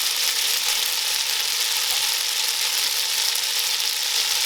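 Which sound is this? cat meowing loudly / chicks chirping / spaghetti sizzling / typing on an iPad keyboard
spaghetti sizzling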